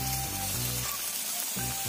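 Food fries with seasoning in a pan outdoors in a forest, a continuous close sizzle with a brief dip in the middle as it is stirred.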